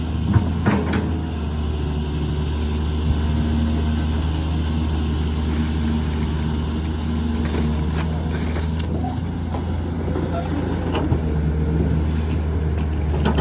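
A smoky car engine revving, heard as a loud, continuous close-up drone with steady low rumble throughout and no talking.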